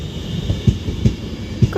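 A train at Liverpool South Parkway station on the West Coast Main Line rumbles low with rhythmic wheel thumps over rail joints, several heavy beats spaced under a faint high whine.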